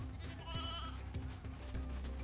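Sheep in the Final Fantasy XIII-2 video game give a short, wavering bleat. It sounds close and fairly quiet over a low background hum.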